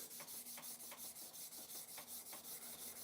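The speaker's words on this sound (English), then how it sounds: "I'm just sitting out here doing some sanding, trying to get these pipes ready" Hand sanding of tobacco pipes outdoors: a quiet, steady back-and-forth rasp of sandpaper on wood, evenly repeating strokes about three per second, close and soft with no talking.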